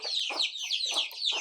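A chicken clucks close by in a quick run of short, repeated calls, loud and clear with no talk over it.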